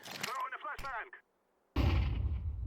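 A Counter-Strike flashbang on Dust2 goes off as a sudden loud, sustained burst that follows a short stretch of talking and a brief silence.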